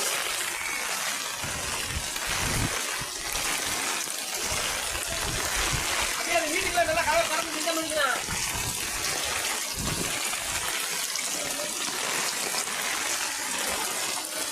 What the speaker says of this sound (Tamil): வீட்டுக்குள்ளே தண்ணி வந்துருச்சு